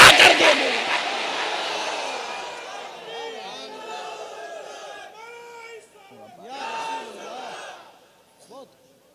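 A crowd at a religious gathering chanting slogans in loud, ragged unison bursts that fade and swell, following a speaker's voice, with reverberant hall echo.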